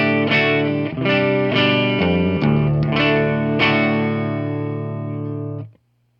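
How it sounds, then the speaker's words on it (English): Electric guitar clean tone through a Peavey 6505 amp head with bright mode engaged, several strummed chords ringing out with crisp attacks and a long sustained final chord that cuts off abruptly, loud and alone. "Now we're going to hear it with the bright mode engaged."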